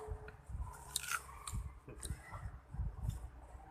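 Someone chews green Khiao Sawoei mango up close, with wet crunching bites and squishy chewing in an irregular rhythm, quiet and without talk.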